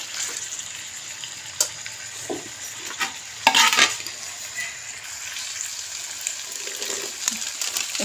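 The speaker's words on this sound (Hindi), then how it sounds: "लेकिन 2 मिनट तक क्या और भून दूँ" Ginger and garlic frying in a pan, a soft steady sizzle with occasional stirring scrapes and a brief louder burst of spatter midway, close and fairly quiet.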